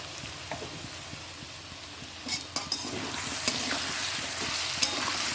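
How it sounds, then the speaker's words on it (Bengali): Taro (gati kochu) curry being sautéed with a fried spice mix and ground coriander in a pan: a quiet, steady sizzle with a few sharp clinks and scrapes of the spoon partway through, and no voices. "আমি ভাজা মশলা এই কষাবার সময় দিয়ে দিই"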